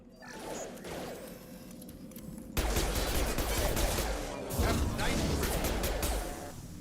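Gunfire in the sci-fi video game Mass Effect 2 (Legendary Edition): after a quieter stretch of mechanical ambience, loud, dense bursts of rapid shots erupt suddenly and keep rattling, with a second surge of fire partway through.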